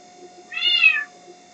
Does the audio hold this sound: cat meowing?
yes